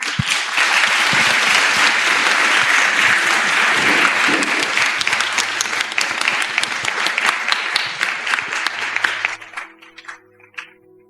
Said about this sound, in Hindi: जो उधर प्रभु के लिए ताली बजाएंगे।